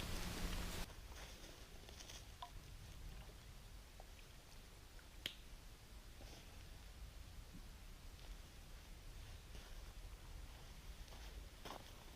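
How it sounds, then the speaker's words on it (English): Steady, dense hiss of heavy rain falling outdoors at a campsite, constant and enveloping, with a few sharp taps and drips standing out briefly. "Raining really hard."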